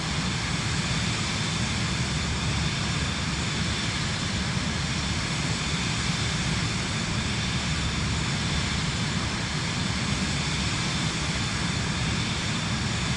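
Steady airplane engine drone during flight in Microsoft Flight Simulator 2024, a continuous broadband roar with low rumble, even and unbroken throughout with no talk.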